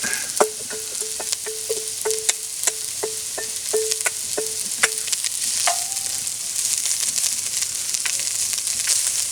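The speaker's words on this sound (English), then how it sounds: "we're going to saute these until they get kind of a golden color" Chopped yellow onion sautéing in a pan, a continuous bright sizzle with a run of quick rhythmic clicks from stirring early on, close and steady.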